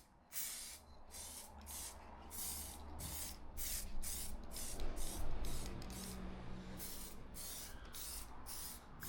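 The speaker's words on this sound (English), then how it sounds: "3 or 4 coats of this spray" A spray can lays coats of finish onto cut 2x4 wood in a workshop, with steady hissing broken by repeated short bursts in a rough rhythm, close and fairly loud with no talk.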